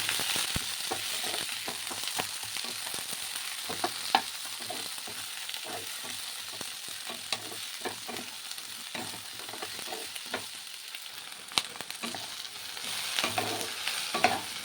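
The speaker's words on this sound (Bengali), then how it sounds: "এই যে বাকি সবজিগুলো কিন্তু হালকা করে ভাজা হয়ে গেছে" Mixed vegetables, including aubergine and tomato, fry lightly in a pan for khichuri, giving a steady, moderate sizzle with repeated scraping and clinking of a stirring spoon throughout, close and without voices.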